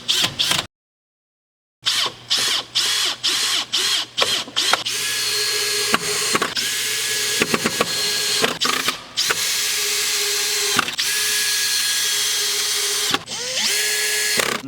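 A cordless power drill drives screws into scrap wood while building a bed frame inside a Honda Fit camper, with repeated short whirring bursts followed by a longer steady run, loud and close, with a brief silence near the start.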